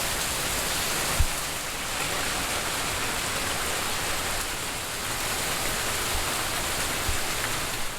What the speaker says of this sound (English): the rain is just not gonna let up